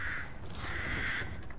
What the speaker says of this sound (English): There's a couple of crows here.